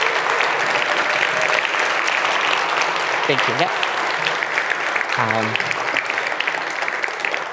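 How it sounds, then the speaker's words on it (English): Sustained audience applause fills a hall after a talk on a 2SLGBTQ+ purge, loud and steady throughout, with a couple of brief spoken thanks over it. "a round of applause for folks here"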